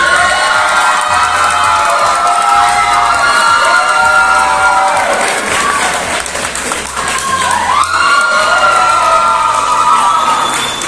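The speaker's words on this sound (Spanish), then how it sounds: "Queremos pedirles un paso al frente para el aplauso del público" An anime convention audience cheers, whoops and applauds loudly and continuously, with children shouting in the crowd and a thick wash of voices throughout.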